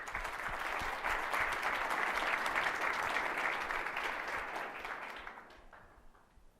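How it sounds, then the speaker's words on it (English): A large audience in a Startup Cincy demo day room claps steadily in a dense, even burst that holds for several seconds and then tapers off toward the end. "A big round of applause for their pro bono work."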